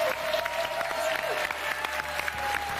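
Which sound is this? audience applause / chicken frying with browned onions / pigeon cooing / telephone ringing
audience applause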